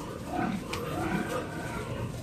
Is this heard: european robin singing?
no